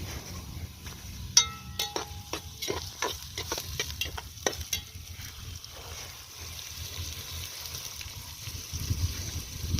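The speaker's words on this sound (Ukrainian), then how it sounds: "засипаємо нашу цибулю з часником. І перемішуємо." Chopped onion and garlic hit hot oil and sizzle while a utensil scrapes and knocks against the pan in quick strokes, close by, then the frying settles to a softer crackle.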